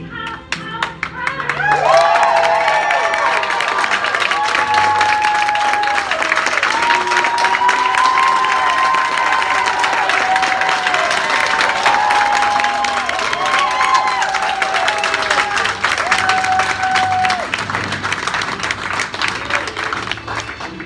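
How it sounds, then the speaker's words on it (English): Applause and cheering from a graduation audience fill the room continuously for about twenty seconds, dense clapping with scattered whoops and shouts, loud and close, steady from start to finish. "Let's hear for Nita from Westinghouse"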